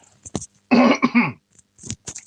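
A few short coughs and throat-clearing sounds, close up, with a couple of heavier hacking coughs in the middle.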